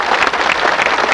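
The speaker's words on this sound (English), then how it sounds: "So give him a round of applause." Applause from the audience at the USS Hornet recommissioning ceremony honors a Navy veteran who served aboard CV-8. The clapping is dense, steady and loud, with no voices over it, through the whole brief stretch.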